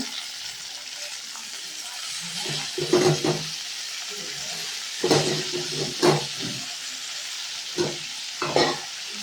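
Washed drumstick leaves frying in a pan for village-style chutney, a steady hiss and sizzle with repeated bursts of scraping and stirring, close and fairly loud.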